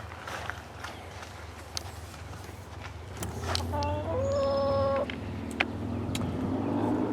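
Backyard chickens cluck and squawk close by over a steady low hum, with sharp clucks scattered throughout and a busier stretch of calls midway.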